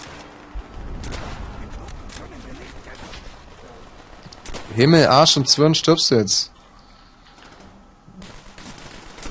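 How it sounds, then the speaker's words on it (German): Gunfire in the video game Call of Duty: World at War: scattered shots crack now and then under a player's loud, excited talking. "einen Schuss abgegeben"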